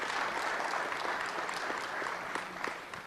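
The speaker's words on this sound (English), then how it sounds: "Let's give them a round of applause, too." Applause at a city council meeting, a room of people clapping steadily at moderate, somewhat distant volume, holding an even rhythm throughout with no talk over it.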